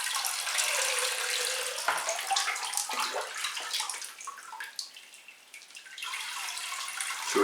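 Water pours steadily through free-flowing orchid potting medium in a pot of cattleya orchids, running straight through with a continuous splashing rush that eases briefly midway, close and fairly loud, with no talking.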